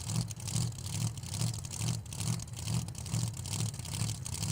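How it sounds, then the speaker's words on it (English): A loud supercharged blower drag racing car at a drag racing event holds a steady, pulsing low engine roar through the whole stretch, with no clear launch or fade. "Shane Molinari will be on the chase at 418 with his really loud blower car over here on the right."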